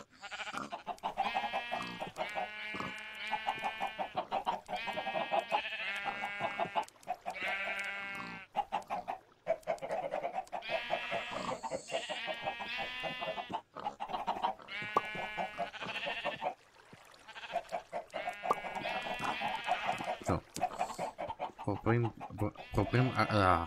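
A crowd of Minecraft farm animals (pigs, sheep and cows) makes a constant, overlapping chorus of bleats, grunts and moos, dense and busy throughout with brief gaps.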